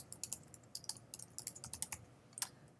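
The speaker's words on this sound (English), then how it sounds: "I'm going to type in my title." Fingers tap out a title on a computer keyboard in quick, uneven bursts of crisp clicks, close and fairly quiet, with short pauses between words and no voices.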